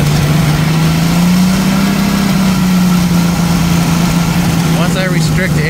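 A 1990 Jeep YJ 4.2L engine idles fast on choke at about 1700 rpm with a vacuum leak, a loud, close, steady drone with a slight uneven miss, running continuously.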